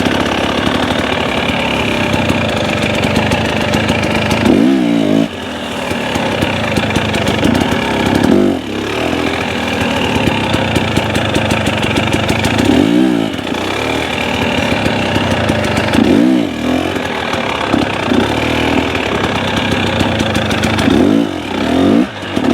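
A dirt bike being ridden over logs on a trail, engine buzzing steadily and close, with repeated brief revs and dips as the rider crosses obstacles every few seconds.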